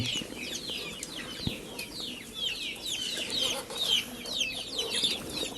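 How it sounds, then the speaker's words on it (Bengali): Many chickens cluck steadily together while eating, with short busy calls overlapping and some brief wing flaps, close by and without talk. "এখন বাকি মুরগিগুলোকে খাবার দেবো"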